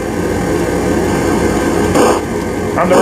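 Retro Atari 2600 biplane game playing steady droning engine tone, a constant buzzy hum with brief bursts of brighter noise near the end, loud and continuous without talk.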